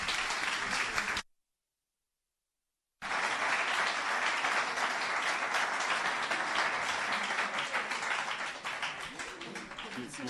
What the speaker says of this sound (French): sous un tonnerre d'applaudissements, M. Théophile Obenga, s'il vous plaît